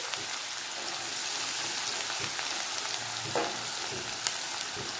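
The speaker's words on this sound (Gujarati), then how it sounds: "અડધી મિનિટ માટે ડુંગળીને આપણે તેલની અંદર સરસ સાતળવા દઈશું" Finely chopped medium onion sautés in hot oil for spinach bhaji, giving a steady, fairly quiet sizzle with occasional stirring clicks.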